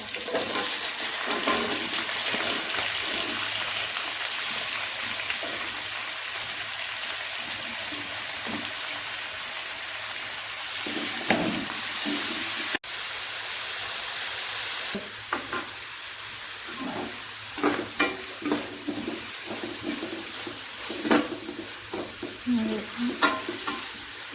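Green chillies, onion and tomato fry in a pan with a continuous close sizzle, broken by repeated scraping stirs of a spatula throughout.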